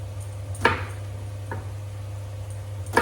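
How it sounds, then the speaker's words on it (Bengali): A knife cuts a young, tender eggplant into small pieces, landing three separate crisp chops on a board, close by, over a steady low hum. "বেশি বড় সাইজের করবো না, ছোট ছোট করেই কাটছি।"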